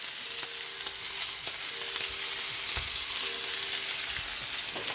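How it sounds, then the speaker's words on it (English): Butter sizzling in a hot pan around a searing steak, a steady dense crackling sizzle with faint stirring clinks, close and continuous. "So now we're gonna add our butter. 2 knobs of butter."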